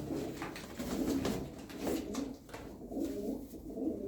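A Sinekli mavi tumbler pigeon coos in a series of soft, low, throaty calls close by, with brief pauses between phrases and no one talking.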